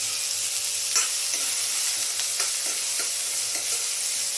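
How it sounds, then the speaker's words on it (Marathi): A loud, steady sizzle of onion sautéing in a pan, with soft scraping strokes of stirring every half second or so. "कांदा परतून घ्यायचा"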